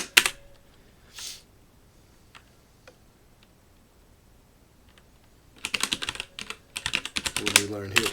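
Typing a username on a computer keyboard while installing Ubuntu under Windows Subsystem for Linux: a few scattered, isolated clicks, then a dense, rapid burst of loud keystrokes near the end, close up with no talk.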